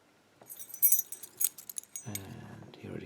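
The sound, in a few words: keys jangling as a lock's keys are handled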